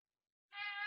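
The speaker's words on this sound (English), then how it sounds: "I hear somebody's cat participating. It's Meow." A cat meows once in the second half, a single sustained, fairly faint call starting abruptly after silence, heard alone with no talk.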